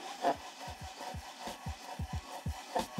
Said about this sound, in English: Some sandpaper on a piece of MDF or plywood works perfect for this.